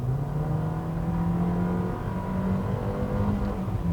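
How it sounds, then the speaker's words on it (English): The engine of a 2020 Nissan with a CVT, in sport mode, drones in a steady buzzy hum, heard loudly from the cabin with a slight rise in pitch partway through. "When you put it in sport mode, I mean, the engine in this car is so buzzy"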